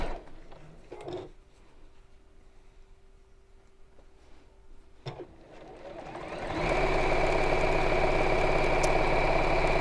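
A sewing machine stitches down the side seam of a project. After about six quiet seconds it starts up and runs loud and steady to the end, with no talking.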